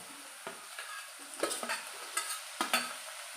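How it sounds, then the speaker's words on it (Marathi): Tomato tossed into hot oil with ginger-garlic paste and masala for masala bhindi, stirred in a pan: a low sizzle under a series of spoon scrapes and soft clinks, close and fairly quiet. "टोमॅटो टाकून परत छान मिक्स करून घेऊ"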